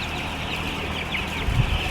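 A chicken on a chicken farm clucks softly amid steady farmyard noise, with a few low thumps near the end.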